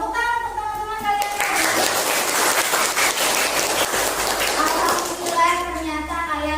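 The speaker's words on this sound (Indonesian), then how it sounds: "Tepuk tangan untuk teman-teman kalian." Schoolchildren applaud their classmates in a classroom, a loud burst of clapping lasting about four seconds, with a voice speaking just before and after.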